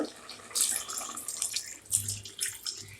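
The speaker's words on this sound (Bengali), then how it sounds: "আর একটু পানি দিয়ে দিব" Water poured into a cooking pot of fried pangas fish curry, a close gurgling, splashing flow of moderate loudness that keeps running throughout with no speech over it.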